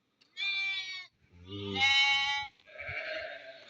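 Goats bleat at a livestock market, with three loud, close, wavering calls in quick succession and quiet pauses between them.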